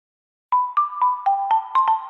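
Short bright jingle for the Tulatero lottery app, about seven quick bell-like tones in a rhythmic, slightly shifting melody after a brief silence, clear and alone.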